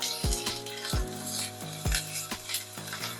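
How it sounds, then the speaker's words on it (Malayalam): Metal spoon scraping and knocking in a pan while erissery curry with pepper powder roasts, several sharp clinks over a soft background sizzle. "ഇതിലേക്ക് കുറച്ച് കുരുമുളക് പൊടി എല്ലാം കൂടി വെച്ച് നന്നായിട്ട് വറുത്തെടുക്കാം"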